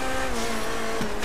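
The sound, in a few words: car drifting in video game GTA V Online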